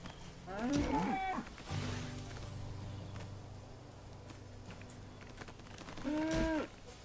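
Cows moo in the Lego Worlds video game, two clear drawn-out moos, one near the start and one near the end, over a low steady background hum.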